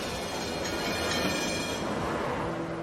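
A tram rolls past on a city street, a loud continuous rumble and hiss of wheels on rails that softens toward the end, with faint squealing tones and no talking.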